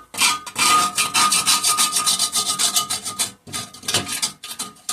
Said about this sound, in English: I'm going to try to scrape some of it out, just the worst of it